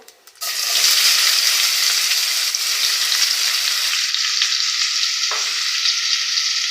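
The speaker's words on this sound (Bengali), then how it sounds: "পেঁয়াজগুলো আমি হালকা বাদামি কালার করে ভেজে নেব।" Chopped onions hit hot oil left over from frying prawns for a prawn malaikari, bursting into a loud, steady sizzle that continues close up without a break.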